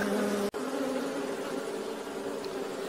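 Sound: honey bees buzzing around a beehive

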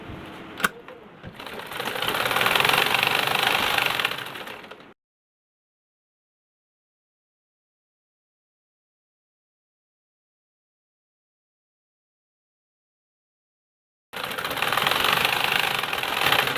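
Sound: home sewing machine running, thread breaking

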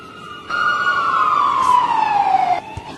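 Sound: airport fire engine siren

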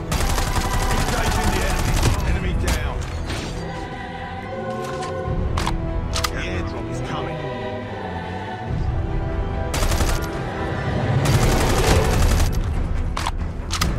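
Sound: Kilo 141 rifle gunfire in Call of Duty video game

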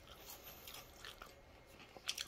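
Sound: biting and chewing crunchy air-fried food

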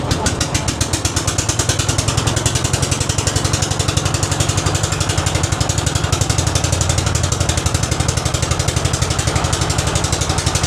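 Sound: motorboat engines running at a river ghat

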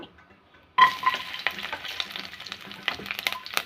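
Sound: mustard seeds and garlic frying in oil

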